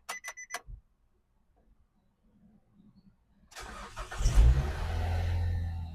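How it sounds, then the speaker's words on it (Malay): A car's engine cranks and catches after a jump start from a power bank jumper: short beeps, a quiet pause, then a loud start settling into a steady nearby idle. "kereta dah hidup"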